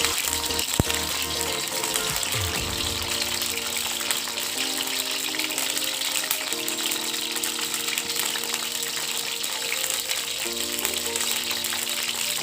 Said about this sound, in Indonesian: Terongnya kita goreng sampai kering